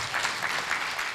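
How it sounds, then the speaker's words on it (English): Applause from the audience at the OFAB Kenya Media Awards 2023 ceremony, a short steady wash of clapping at moderate level with faint voices mixed in. "No, let's keep clapping"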